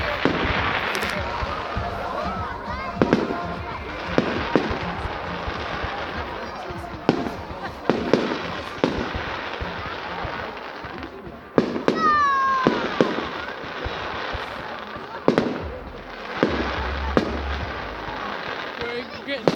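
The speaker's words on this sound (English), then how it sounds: "In them GTA 5 you can use rocket launchers that actually fire fireworks." Fireworks launched from rocket launchers in GTA 5 gameplay, a series of sharp pops, crackles and whistling bursts scattered throughout, loud and close, mixed with game sounds and people talking.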